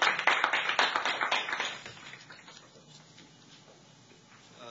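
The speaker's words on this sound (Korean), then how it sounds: "큰 박수로 맞아주시기 바랍니다" Applause from a sparse audience at a forum panel in Jeju welcoming a presenter, a burst of brisk hand claps for about two seconds that quickly thins out and fades to quiet room tone.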